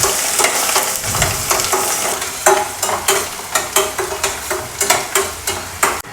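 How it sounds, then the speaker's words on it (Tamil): Peeled garlic sautéing in a pan for tomato-garlic pickle, a loud close sizzle with a regular series of sharp spatula scrapes and taps growing steadier toward the end, no voices. "இப்போ நம்ம க உரிச்சு வச்சுருக்க பூண்டு எல்லாத்தையும் ஒன்றா சேர்த்துக்குவோம் நல்லா வதக்கிக்கலாம்"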